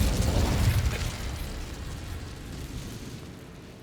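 A burst of fire from the Incendio spell in Hogwarts Legacy burning away cobwebs, a loud roaring whoosh at the start that slowly fades over a few seconds, heard alone without talk.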